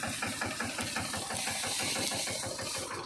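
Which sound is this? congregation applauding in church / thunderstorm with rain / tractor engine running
tractor engine running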